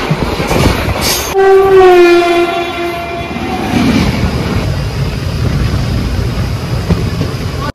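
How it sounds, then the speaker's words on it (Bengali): A train pulling into Kashi railway station sounds a long loud horn blast, then rolls in with a steady rumble and rattle of wagons, close and continuous. "ঢুকলো ট্রেন।"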